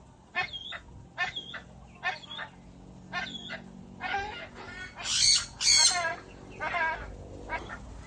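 Red golden pheasant calls in an aviary setting, a series of short harsh squawking notes in a loose rhythm, growing louder and shriller toward the end, with faint background noise.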